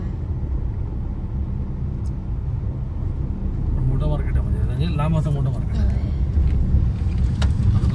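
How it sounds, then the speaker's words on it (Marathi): Road traffic with large vehicles passes along a busy road by a big market in Konkan, a constant low rumble close by under a person talking throughout. "इकडे मोठ्या मोठ्या गाड्या बघा अशा ट्रॅफिक येतात"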